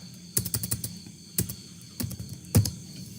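Typing on a computer keyboard while working in Microsoft Word, a few scattered close key clicks and clustered taps separated by short pauses over a quiet background hum.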